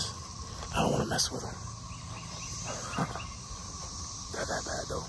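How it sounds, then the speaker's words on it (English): Cicadas swarming in trees give a steady high-pitched buzz through the whole stretch, with a few bird-like chirps, while a person talks close by over it. "They're called cicadas."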